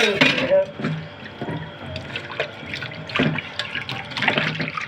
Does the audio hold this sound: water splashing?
yes